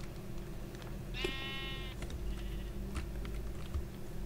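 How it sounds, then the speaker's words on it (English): A sheep in Minecraft bleats once in a wavering, buzzy call over a steady hum of game ambience, with faint clicks from keys or a mouse scattered through the background. "Where's my pink sheep?"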